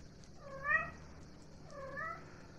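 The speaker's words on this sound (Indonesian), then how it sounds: "ini kucing saya mengeong-ngeong" A cat in The Sims 4 video game gives two distinct meows about a second apart, clear but fairly quiet against a faint background hum.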